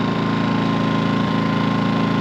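A Harbor Freight Predator generator idling with its throttle dropped to low speed under little or no load, giving a steady, even engine drone with a regular low pulsing that holds constant throughout.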